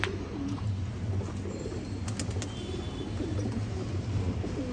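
Domestic pigeons coo in a loft as they go inside to drink, with low, repeated soft coos over a constant background hum and a few faint chirps, moderately near.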